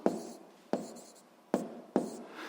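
Writing strokes scratch across a surface during a seventh-grade physics lesson: four separate sharp scrapes, each fading out, spaced well apart in a quiet room.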